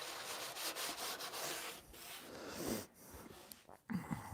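Steady scratchy rubbing of hand sanding, continuous strokes close up with brief pauses, a few soft knocks near the end.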